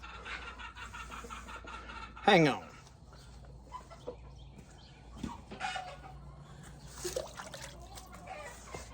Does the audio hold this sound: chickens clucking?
yes